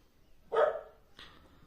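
A pet dog barks twice nearby, a loud first bark followed by a softer second one, heard indoors against quiet background with no talking.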